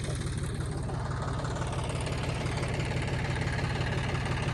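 A tractor ploughing a farm field, its engine running steadily at close range with a constant low throbbing rumble and no pauses or talk.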